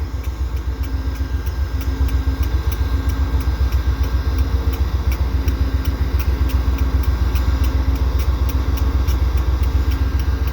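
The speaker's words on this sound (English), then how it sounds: "Now they're charging up the brakes." A Via Rail locomotive idles at Dorval station the day after an ice storm while its brakes charge up: a loud, steady diesel rumble with a regular pulsing beat that runs unbroken, with no voices.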